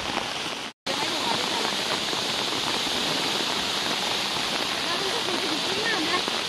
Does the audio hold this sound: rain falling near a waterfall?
yes